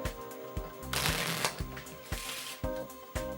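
A deck of playing cards being shuffled during a magic trick, with repeated riffling bursts and sharp snaps recurring every half second or so, close and clear with no talking.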